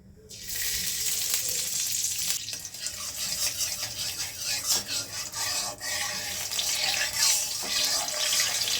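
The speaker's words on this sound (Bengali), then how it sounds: "কড়াইতে আমি ঘি দিয়ে দিচ্ছি।" Ghee sizzles steadily in a wok at the start of making carrot halwa, a continuous close, bright hiss with small crackles and occasional stirring scrapes.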